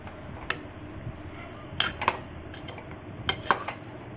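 A metal lid is set onto a cooking pan while making cucumber chutney, a few sharp close clinks and clatters spaced over a few seconds against quiet background.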